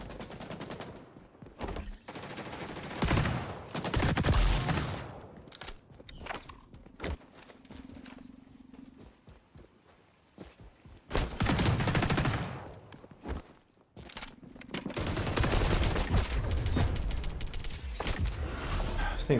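Gunfire from a heavy-recoil weapon in the shooter game XDefiant, with loud bursts coming in bunches between quieter stretches of movement and footsteps.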